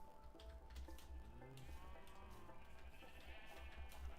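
Sheep in the Minecraft video game bleat in a few wavering calls amid farm animals, faint and low over a quiet ambient background.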